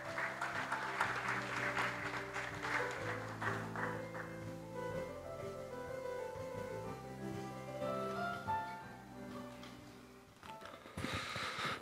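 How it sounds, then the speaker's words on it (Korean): Audience applause welcoming a speaker onto the stage at a formal opening ceremony of a strategy forum, steady clapping carried over a sustained musical accompaniment with tonal lines, continuing for the whole span before briefly dipping near the end. "큰 박수로 맞이해 주시길 바랍니다."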